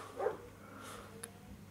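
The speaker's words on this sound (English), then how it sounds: "Sorry about that dog outside barking." A single faint, distant dog bark comes from outside over a quiet indoor background hiss, brief and alone.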